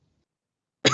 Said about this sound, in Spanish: todavía tengo tos